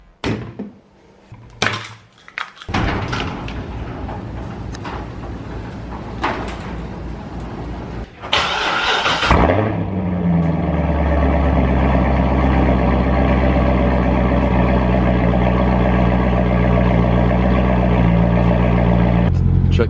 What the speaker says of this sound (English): let's go ahead and start the car up and head on out.